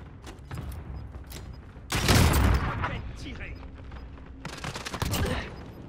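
AK rifle fire in a shooter video game comes in two loud bursts of rapid shots separated by quieter stretches, with people talking over the action.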